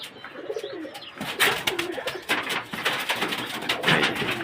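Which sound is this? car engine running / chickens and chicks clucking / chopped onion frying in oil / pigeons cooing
pigeons cooing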